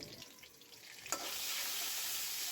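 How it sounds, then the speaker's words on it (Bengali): Prawns frying in oil with salt and turmeric, a quiet hiss that jumps into a loud, even sizzle after a sharp clatter midway and stays constant to the end, with no voices. "প্রথমে আমি চিংড়ি মাছগুলোকে একটু ভেজে নিলাম একটু লবণ এবং হলুদ দিয়ে"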